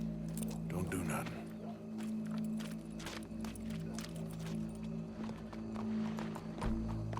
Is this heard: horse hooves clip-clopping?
yes